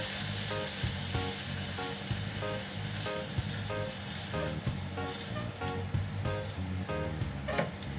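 Kikil (beef skin) frying and being stirred in a pan with a splash of water, giving a steady close sizzle with repeated scraping stir strokes throughout, plus some background music-like tones.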